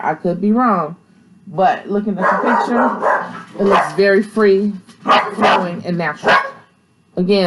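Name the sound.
dog barking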